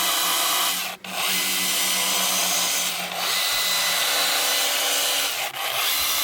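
A chainsaw with a dime-tip bar plunge-cuts shallow letters into wood for a ghost carving, a loud continuous high-pitched whine with brief dips in power around each plunge.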